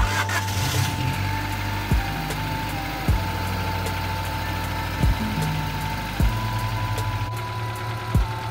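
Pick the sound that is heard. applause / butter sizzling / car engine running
car engine running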